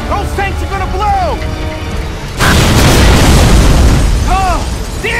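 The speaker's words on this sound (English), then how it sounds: "Those tanks are gonna blow!" Fuel tanks blow up aboard a ship in the shooter Gears of War 3: a sudden loud explosion that becomes a roaring, crackling rumble and continues to the end, with shouting voices before and after the blast.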